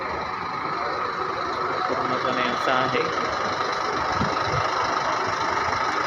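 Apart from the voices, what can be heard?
Pune station bus stand with buses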